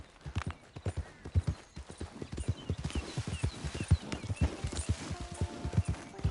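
Horse hooves clip-clopping in the video game Red Dead Redemption 2, a close, steady rhythmic walk of clear hoof strikes throughout.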